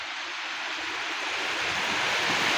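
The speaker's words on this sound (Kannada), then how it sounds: "ಓ ಭಯಂಕರ ಗಾಳಿ ಮಳೆ ಬರ್ತಾ ಉಂಟು." A heavy early-morning wind and rainstorm over a plantation roars as a dense, continuous rushing wash, loud and close, swelling slightly toward the end with no voices.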